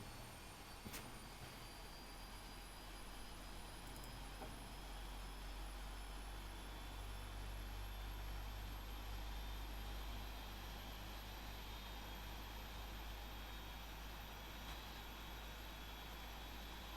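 Faint, steady jet engine whine of a Boeing 777-200ER in a flight simulator game, spooling up with a constant low rumble and rising high tones, no voices.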